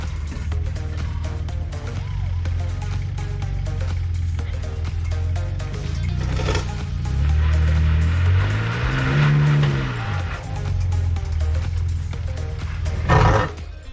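A 2023 Ford Raptor 4x4 engine revs hard while the truck climbs over rocks on an off-road track. The engine note drones steadily and then surges and rises in pitch midway, and a sharp burst comes near the end.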